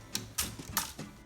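A 1949 Hermes Rocket typewriter clacks quietly up close as its caps lock is worked, with four or five distinct mechanical strikes and snaps spaced irregularly.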